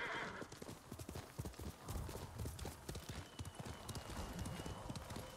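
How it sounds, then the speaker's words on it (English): Rapid hoofbeats of a galloping horse in the video game Ghost of Tsushima, steady and close, with a brief whinny near the start. "You're a good horse."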